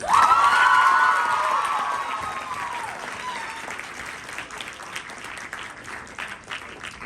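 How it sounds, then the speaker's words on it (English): A high school crowd bursts into applause with cheers and shouts after a candidate speech, loud at first then tapering into scattered clapping. "3 big claps for that speech"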